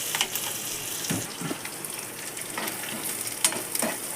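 Onions fry in a pan until brown, giving a moderate continuous sizzle with a few short scraping stirs scattered through it.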